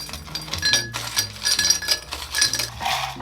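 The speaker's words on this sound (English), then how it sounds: "we're gonna use a chilled Collins glass. And I like to fill it with some cracked ice" Cracked ice clinks and rattles into a chilled Collins glass for a Long Island Iced Tea, a busy run of close glassy chinks and scrapes with no talking.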